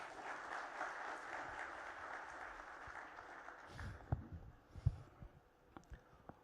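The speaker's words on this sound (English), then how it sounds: "Big round of applause" Audience applause at a business conclave and awards event, a steady wash of clapping from a large crowd that thins out toward the end, with a few louder individual claps.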